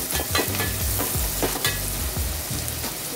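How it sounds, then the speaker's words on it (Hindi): Chopped onions and tomato fry in a pan with a dense, continuous sizzle, while repeated scraping stir strokes come through close by. "प्याज को भी मैं अच्छे से फ्राई करूंगी।"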